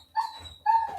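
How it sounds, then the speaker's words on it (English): A single dog gives two short, bright barks or yips close by, with a quiet pause between them and no talking over them. "Doggy."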